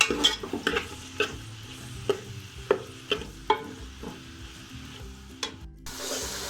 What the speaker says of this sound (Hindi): और इसके अंदर यहाँ प्याज शामिल कर रहे हैं, इसको हम गोल्डन करते हैं।